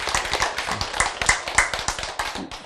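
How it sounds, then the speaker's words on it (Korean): Applause from a lecture audience, many hands clapping densely and steadily throughout at moderate loudness, with no talking over it. "박수"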